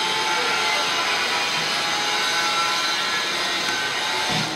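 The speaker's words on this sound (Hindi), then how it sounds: "यहाँ पर चल रहा है कंस्ट्रक्शन का काम और शायद मार्बल की घिसाई हो रही है जिसकी वजह से बहुत आवाज़ आ रही है।" Marble grinding on a construction site, a loud, continuous broadband grinding roar that holds steady without pause, close and dominating.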